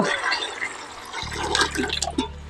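A tap runs water into a bucket, a steady gushing fill with a low resonant drone starting partway through and faint voices in the background.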